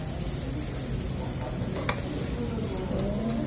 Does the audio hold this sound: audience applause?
no